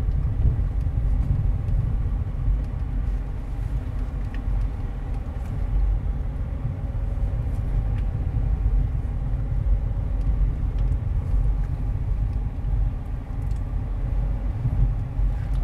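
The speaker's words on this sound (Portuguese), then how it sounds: "Aqui já tem mais carro" Cars passing along a narrow street in the small coastal town of Baía da Traição, Paraíba, Brazil, a steady low rumble of traffic that stays fairly loud and continuous without any voices.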